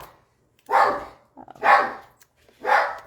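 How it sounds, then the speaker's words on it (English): A dog barks three times at a steady pace, each bark loud and close, with quiet gaps and a soft whimper between them. "my dog is going crazy."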